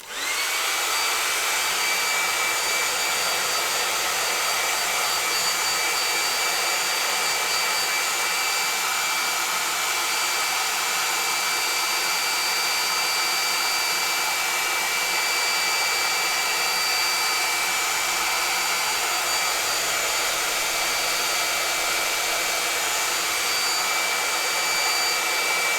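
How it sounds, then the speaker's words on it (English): A hairdryer blows in a steady, loud whoosh that runs unbroken the whole time, with a faint high whine. "Going to give that a moment to dry and speed it up with a hairdryer."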